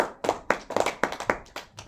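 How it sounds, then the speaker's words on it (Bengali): A group of people claps their hands in a short, uneven burst of sharp, close claps, about a dozen hits with a loose rhythm. "সবাই একটা হাততালি"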